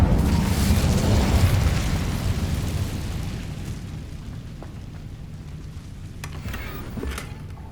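Incendio fire spell cast in the Hogwarts Legacy video game, a loud roaring whoosh and rumbling burst that gradually fades into a crackling tail.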